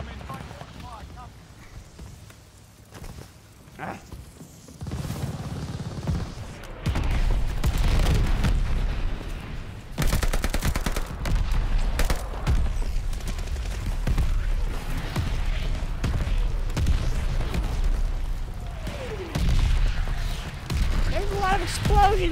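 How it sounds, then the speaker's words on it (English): Battle explosions in the first-person shooter Call of Duty: Vanguard rumble as deep booms and bursts of gunfire, several rolling blasts layered over continuous combat noise, with a player talking at times. "Explosions over there."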